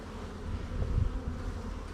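Honeybees in a nucleus hive of five frames, about to be lightly smoked, give a low, soft, steady buzzing hum with a slight swell partway through.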